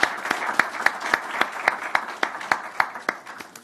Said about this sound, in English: a big round of applause for the panelists and their comprehensive answers